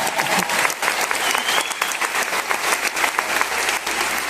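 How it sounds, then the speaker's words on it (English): Audience applause at a US Air Force Band of the West concert in Lakeland: a dense, steady wash of many hands clapping that fills the whole stretch at a fairly loud level. "give them a round of applause."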